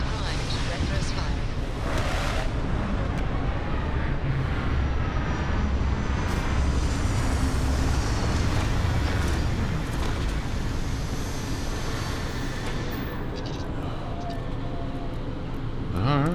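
A spaceship in Starfield lands with retro thrusters firing, giving a dense, loud, steady roaring engine wash that holds throughout and eases slightly near the end, with a voice talking over it.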